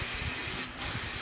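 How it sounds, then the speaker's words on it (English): A short hiss of aerosol hair shine spray, close and steady, with a brief pause midway before the spray resumes. "I'm just going to hit it with a little bit of this shine spray."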